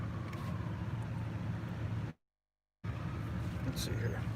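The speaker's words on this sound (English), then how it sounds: "I'm gonna leave the truck going" A truck engine left idling gives a steady low rumble under nearby voices, cutting out briefly to silence partway through before resuming.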